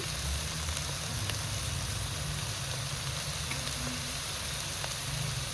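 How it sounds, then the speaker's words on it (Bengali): Brinjal frying with salt and turmeric in a pan, a steady, even sizzle with low rumble underneath, continuous and moderately loud without breaks. "একটু হলুদ দিয়ে দিচ্ছি এখন এটা ভালো করে ভেজে নেব"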